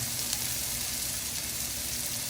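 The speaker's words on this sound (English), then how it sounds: "go ahead and throw in the sausages. And just let them cook." Sausages fry in a pan for Cajun shrimp and sausage pasta, a dense, continuous hiss and crackle of hot fat, loud and close, with no voices.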